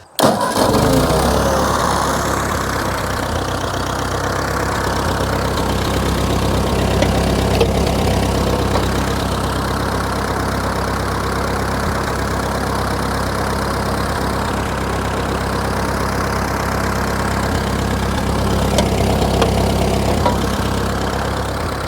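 A 1948 Ford 8N tractor engine runs steadily at idle for the whole stretch, a loud, even low rumble with a faint knocking pulse and no talking.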